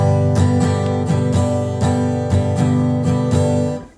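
Guitar strummed in a steady eighth-note pattern, full chords ringing with even rhythmic down and up strokes at a brisk regular pulse, loud and close, fading at the end with no talking.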